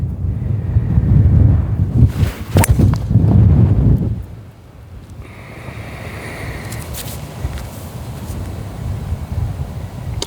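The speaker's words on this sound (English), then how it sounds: "we got a 10+ mile-an-hour wind blowing right in our face here" Wind gusting across an open golf course at over ten miles an hour, roaring loudly into the microphone for about four seconds before easing into a steadier, quieter rush.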